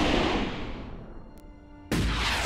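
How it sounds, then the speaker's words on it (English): A big explosion in the Starship Troopers Terran Command video game, a heavy rumbling blast that slowly fades before a second loud boom bursts in near the end; no voices. "It's also one hell of an explosion."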